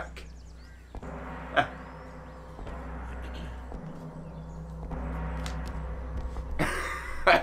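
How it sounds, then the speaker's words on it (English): A person playing Horizon Call of the Mountain on PSVR2 coughs in short, close bursts, one brief cough early and a rougher cluster near the end, over a steady background of game ambience. "Every time I laugh, I cough."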